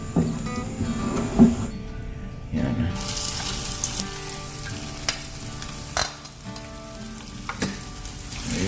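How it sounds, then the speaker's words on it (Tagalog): A large bidbid fish fries in oil in a big pan, with a continuous close sizzle and crackle, occasional clatters and scrapes, and a brief splashy rush. "Magprito na tayo."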